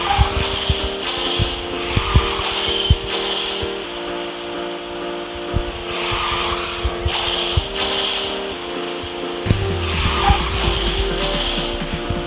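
A motorbike in the mobile racing game Garena Speed Drifters, an M2 GUTS bike, braking hard and skidding: a steady engine drone with repeated tyre squeals and scraping skids across the lap, no voices over it.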